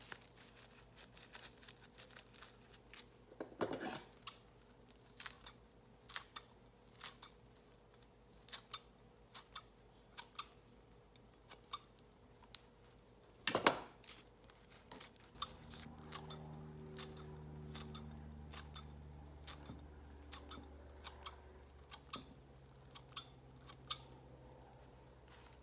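Scissors snip fresh basil into thin ribbons, with many crisp, quick cuts scattered close by over a quiet background, followed by a low steady hum near the end.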